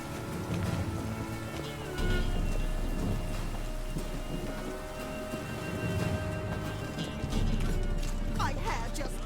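Steady rain falls in The Witcher 3 game world, a continuous broad wash with low rumbling beneath, while game music and character voices sit in the mix throughout.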